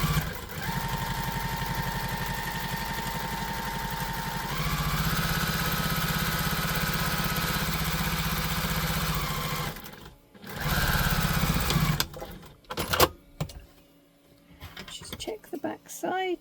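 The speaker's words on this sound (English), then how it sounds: "Going to just baste those together." A sewing machine basting the fabric pieces of a tote bag together, running steadily for about ten seconds with a shift in speed partway, then stopping, followed by quieter handling sounds.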